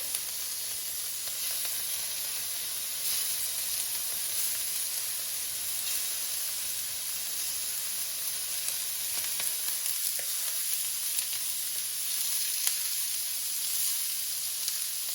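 Shrimp sizzling steadily in a hot pan while fried rice is being cooked, a continuous bright frying hiss that holds at an even level throughout with no talking.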